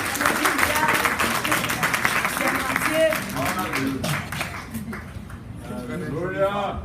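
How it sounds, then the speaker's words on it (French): A church congregation claps loudly and continuously, with voices talking and calling out over the applause as it fades toward the end. "Je demande à l'assemblée de bien vouloir applaudir ma femme"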